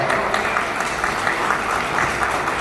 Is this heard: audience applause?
yes